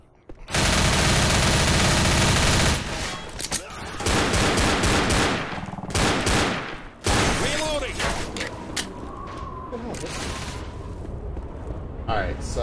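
Sustained automatic gunfire in the video game Left 4 Dead roars loud and close in long rapid bursts, then gives way to choppier volleys and scattered shots, with players' voices mixed in.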